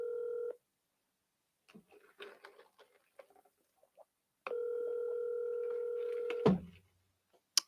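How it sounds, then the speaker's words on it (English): Telephone call being placed: two stretches of steady dial tone separated by a run of quick dialing beeps, then a short burst and a final click, quiet and close with no talking. "We'll see if he picks up the phone."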